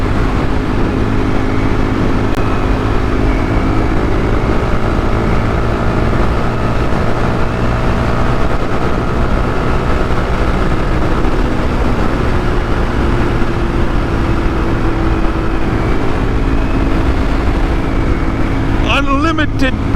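A 2023 KTM 500 EXC-F dirt bike engine drones steadily while being ridden, with a continuous hum and rushing wind noise that stay loud and even for the whole stretch, and a brief clatter right at the end.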